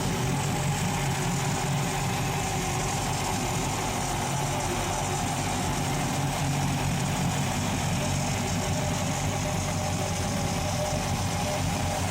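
Steady low idle rumble of the rebuilt engines of a 1995 Silverton 310 Express boat warming up, even and unchanging, with a constant mechanical drone throughout and no voices.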